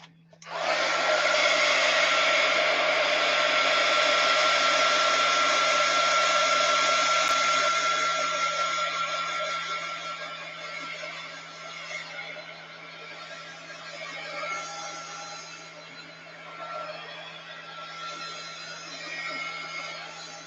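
A heat gun blows on craft paint with a loud, steady fan-and-air roar that starts abruptly, holds for several seconds, then eases to a lower, slightly wavering drone; close up, no one speaks.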